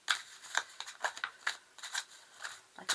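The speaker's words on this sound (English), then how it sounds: "do you want me to split and shuffle the deck again?" A deck of tarot cards being split and shuffled by hand, a quick series of crisp riffling flicks in an irregular rhythm of about a dozen bursts, close and fairly quiet, with no talking.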